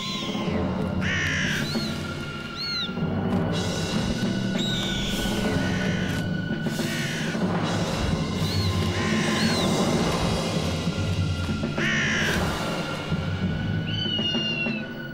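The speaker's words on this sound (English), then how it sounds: "And the belligerent crows are constantly at war with the birds of prey." Crows in a traditional orchard caw repeatedly and loudly, with several harsh calls spaced through the clip over a busy outdoor background of other birds.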